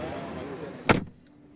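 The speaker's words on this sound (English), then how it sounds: "Let's close the door." A door on a 2024 BMW i5 eDrive 40 shuts once with a single loud, solid thump partway through, following quiet cabin sound and leaving a short fade.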